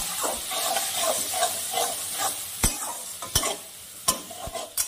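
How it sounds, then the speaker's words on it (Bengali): Spice paste frying for a fish curry with pumpkin shoots and potatoes sizzles and hisses after a splash of water. A spoon stirs and scrapes throughout, with several sharp knocks of the utensil against the pan. "সামান্য একটু মশলাটার মধ্যে জল দিয়ে দিব, যাতে মশলাটা পুড়ে না যায়।"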